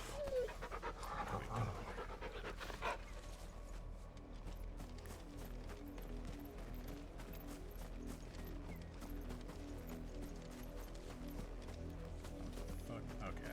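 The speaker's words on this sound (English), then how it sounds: "What a fine hound." Hound panting steadily in Final Fantasy XVI, a soft continuous breathy rhythm over game music and ambient sound, with a brief voice near the start.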